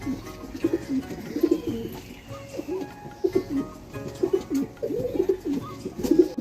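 Repeated soft, low cooing from an old pigeon, about 14 years old, in a steady rhythm, fairly close, with several cooing phrases running one after another throughout.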